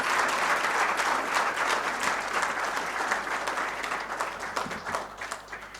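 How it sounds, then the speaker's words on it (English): An audience at a book launch talk on Tipu Sultan and the Mysore Interregnum claps in a full, steady round of applause, loud at first and gradually thinning over about six seconds. "Can we have a huge round of applause?"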